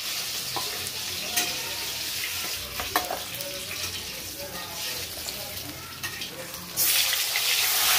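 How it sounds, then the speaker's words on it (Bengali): Rohu fish pieces fry in hot oil in a pan, a steady close sizzle with occasional clinks and stirring, growing brighter near the end, with a voice faintly present. "এদিকে মাছগুলো ভাজা হতে হতে আমি একটা মশলা করে নিচ্ছি।"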